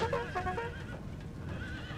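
In Napoleon: Total War, cavalry horses charge onto defensive stakes, and a horse whinnies loudly at the start over a low rumble of hooves and battle noise.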